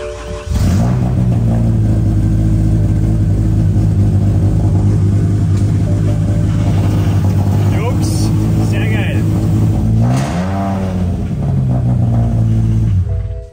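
A BMW M5 E60 engine, partly reassembled with the intake plenum missing and a check engine light on, cranks and starts, then runs roughly with a loud, steady, uneven rumble and a brief rev near the end, without talk.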